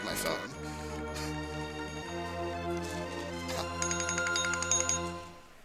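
A mobile phone ringtone plays loud and melodic for several seconds during a live Super Ghouls 'N Ghosts game run at a convention, with bright chiming notes near the end.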